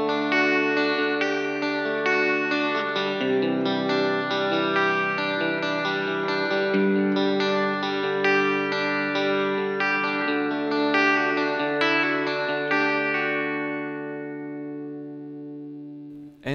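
Electric guitar through a Roland Cube Lite amp with deep reverb turned up, a long flowing passage of picked notes and sustained chords blurring together in a thick reverberant tail that fades at the end, with no talking.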